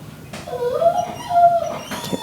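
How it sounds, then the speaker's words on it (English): A dog whines indoors from just outside a closed door: a drawn-out, wavering high whimper rising and falling over about two seconds, moderately close, with no one talking. "My dog's whining outside the door."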